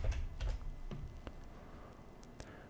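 Quick taps on a computer keyboard, a short burst of faint clicks at the start followed by a few sparse keystrokes, quiet and close.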